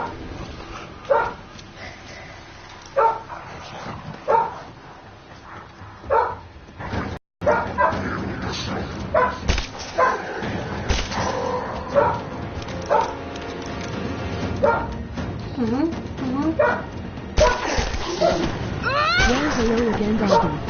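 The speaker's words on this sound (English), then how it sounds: "Well, hello again, Doggy." A dog barks and yips in the video game Rise of the Tomb Raider, sounding in short bursts amid game sounds, with a person talking over much of the clip.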